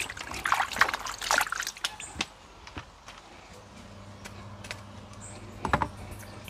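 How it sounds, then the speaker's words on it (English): Beef rinsed under running water with lime in a Jamaican home kitchen: irregular splashes and trickles of water against meat, with sharp handling clicks and knocks, louder bursts early and again near the end. "Get the meat wash off, you know."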